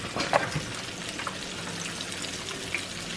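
Red snapper fish fries in a pan with a faint, steady crackling sizzle and a few sharper pops scattered throughout.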